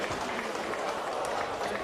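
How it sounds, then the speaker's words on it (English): Wanderers supporters applaud at a football ground during a Waratah v Wanderers NTFL Men's Premier League match, a steady wash of clapping from the crowd with no clear breaks over its short span. "Brenton Motlop's just come from the ground to the applause of the Wanderers faithful."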